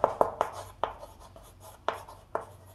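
An answer being written by hand, with a handful of sharp pen taps and short scratchy strokes on paper, close and crisp, spaced irregularly with quiet gaps.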